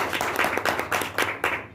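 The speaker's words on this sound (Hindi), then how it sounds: "मैं सभी से निवेदन करूँगा एक जोरदार तालियों के साथ उनका स्वागत किया।" An audience at a journalists' welfare committee meeting in Gangiri claps in rhythmic unison, with bursts of hand claps every fraction of a second over a steady room hum and no talking.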